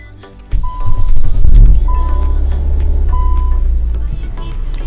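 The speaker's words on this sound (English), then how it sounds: "let's start the engine" Car engine cranks and catches after half a second, then settles into a steady loud idle rumble with a faint repeating electronic beep on top.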